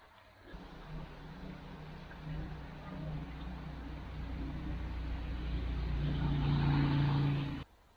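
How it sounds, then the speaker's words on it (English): A low, steady hum of road traffic in the distance beyond a bike trail, slowly swelling louder as vehicles pass, with no voices. "Right now we hear traffic. There's a road up there"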